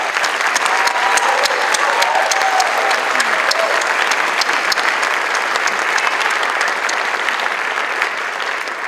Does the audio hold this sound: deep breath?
no